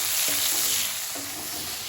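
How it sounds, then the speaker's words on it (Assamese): Onions frying in a pan for pork dry fry, a steady bright sizzle with a couple of soft stirring scrapes, close and continuous with no voices. "এতিয়া পিঁয়াজ দিছে"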